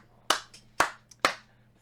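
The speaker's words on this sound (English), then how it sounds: "Round of applause for my man Denji." Three distinct hand claps ring out at an even, unhurried pace, crisp and fairly close, with a couple of softer taps between them and no talking.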